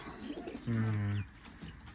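A pigeon in a loft of playing and flying pigeons gives one loud, close, low coo lasting about half a second, with faint softer sounds around it and no clear talk.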